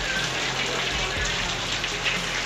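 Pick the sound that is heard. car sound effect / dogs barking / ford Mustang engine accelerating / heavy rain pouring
heavy rain pouring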